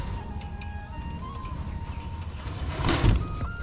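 Pigeons coo softly at a busy pigeon market, low repeated throaty calls close by over a steady crowd murmur and faint whistle-like tones.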